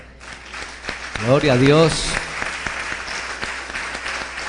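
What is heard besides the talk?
applause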